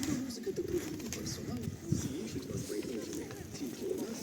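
Soft pigeon cooing in the background, low and burbling, beneath a person talking outdoors near a pump room in central Truskavets in winter.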